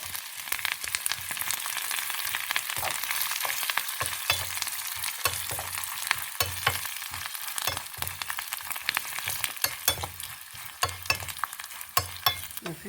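A South Indian tempering of cumin, mustard seeds, grated ginger and curry leaves sizzles in hot oil for avakai pulihora. The steady frying hiss is broken by frequent sharp pops and crackles from the seeds, close and without talk.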